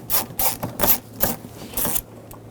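A Phillips head screw being turned out of interior trim on a 2008-2020 Dodge Grand Caravan, a series of short ratcheting clicks and scrapes in an uneven rhythm, close and fairly quiet, with no talk.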